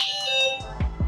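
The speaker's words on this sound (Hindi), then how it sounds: "एक बार टैप करो। बीप अलार्म सिस्टम इसमें दे रखी है।" An electric scooter's remote locator alarm sounds a sustained high electronic beep, loud and close, fading near the end into a few low thumps.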